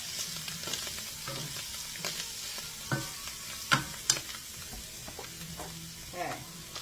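Garlic frying in a pan, a soft steady sizzle with occasional stirring clicks and utensil taps, fairly quiet and heard alone without talk.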